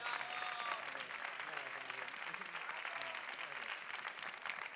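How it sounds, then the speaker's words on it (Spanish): Sustained applause fills an awards ceremony in Barcelona as Estudio T receives its Q and Global Star, a dense, even wash of clapping from the audience, heard at moderate distance throughout. "Un aplauso para él, por favor."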